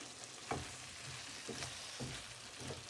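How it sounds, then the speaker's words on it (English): Pumpkin and sweet potato subji being stirred in a pan: a soft, continuous sizzle with a few quiet scraping strokes of a spoon, faint and close, with no voices. "Okay, give it a stir"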